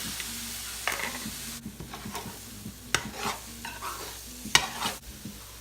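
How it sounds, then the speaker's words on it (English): Eggs go into fried rice with seasoned peppers and onions, sizzling in the pan. A steady frying hiss runs under repeated stirring scrapes and a few sharper knocks of the utensil, with no talk. "So now I'm gonna add the eggs in."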